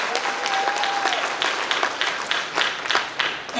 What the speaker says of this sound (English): Y'all clap that up.